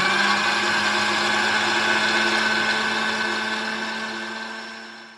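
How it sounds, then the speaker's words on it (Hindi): An electric mixer grinder crushes biscuits with sugar in a home kitchen, running as one loud, steady whirring drone that slowly fades toward the end, with no talking. "तो सारे बिस्किट जो है वो मैंने निकाल लिए और अभी मिक्सर के ऊपर रख दिया है."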